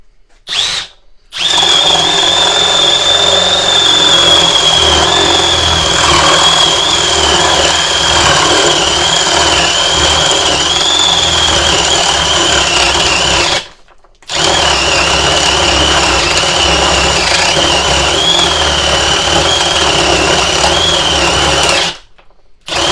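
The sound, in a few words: Milwaukee M12 FUEL hammer drill boring wood with 1 1/2 paddle bit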